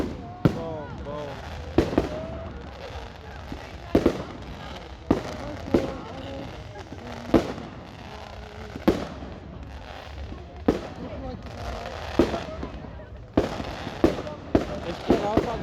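A Lions Club firework display in Ellesmere Port, with repeated sharp bangs and crackling bursts at irregular intervals, some near and loud, others softer, over a noisy crowd with voices and music in the background.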